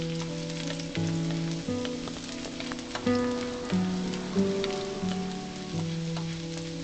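Minced garlic, about five or six cloves, sizzles in a hot pan with a steady close frying crackle that continues alone throughout, with occasional stirring knocks.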